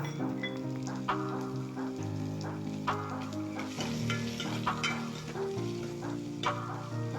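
Green chillies, curry leaves and coriander sauté in a pan for poori masala, a steady soft sizzle with scraping stirs and occasional clinks, faint and close, with no talking.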